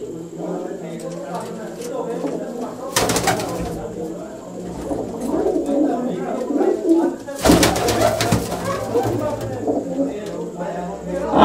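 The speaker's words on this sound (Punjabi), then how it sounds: "ਇਹ ਸਲਾਰੇ ਆ ਕਬੂਤਰ ਇੱਧਰ ਸਾਈਡ 'ਤੇ ਬੈਠੇ" Salara pigeons coo in a loft, their low, soft calls repeating steadily throughout, with someone talking nearby and two brief bursts of rustling or flapping.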